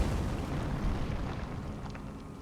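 An explosion in Elden Ring: a loud, deep rumbling blast that fills the whole clip and slowly fades, with a few faint higher crackles near the end.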